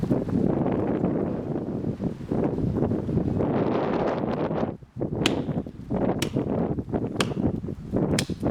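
Steady wind rushing through a forest with broadband buffeting on the microphone, loud and continuous, dipping briefly before a few sharp thin ticks over the gusts.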